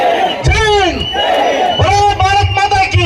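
A large audience at a Kannada public event led by an MLA rises to shout and cheer in thanks to soldiers, making two loud, surging waves of collective yelling close by.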